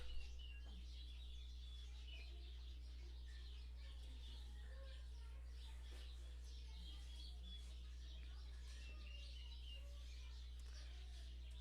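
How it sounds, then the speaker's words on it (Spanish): Faint, busy bird chirps and tweets scattered over a steady low hum, several birds calling at once with no talking. "Escucha bien bonito el canto de los pajaritos"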